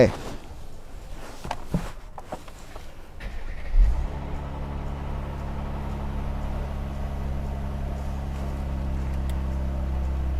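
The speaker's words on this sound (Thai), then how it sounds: "เดี๋ยวผมผมอยากสตาร์ทให้ฟังมากเลยครับ ว่าเครื่อง 6 สูบของเบนซ์เนี่ย เสียงหรือว่าอัตรถมันจะประมาณไหนนะฮะ" A Mercedes-Benz six-cylinder engine cranks and catches near the four-second mark after some cabin shuffling and clicks, then settles into a steady, close idle hum.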